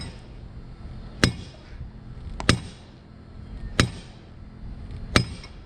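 Four heavy hammer blows strike the foot latch of a Racor 36D railroad switch stand, each a sharp metallic clank at a steady interval of just over a second, close up and with no talk.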